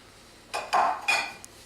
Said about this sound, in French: je mélange, je blanchis les jaunes